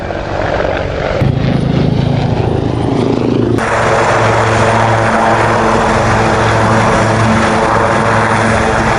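Army Air Corps helicopter performing a display manoeuvre at a public air show: a loud, close rotor and engine roar that surges in pitch and intensity, then settles into a steady pulsing drone.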